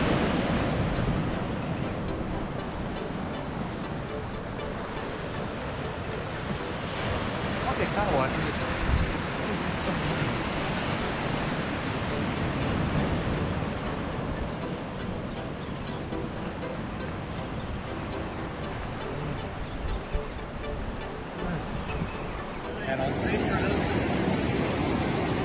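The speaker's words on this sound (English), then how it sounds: "Bit of wind around." Wind at sea during drone fishing off New Zealand, a constant roaring rush of wind buffeting the microphone, mixed with surf-like wash, loud and steady for the whole stretch.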